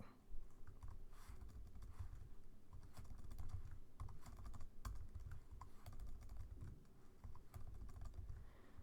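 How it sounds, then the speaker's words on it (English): Steady typing on a computer keyboard, quiet dense keystrokes running continuously with an even rhythm and no pauses, no voices present. "I want to go ahead and type the rest."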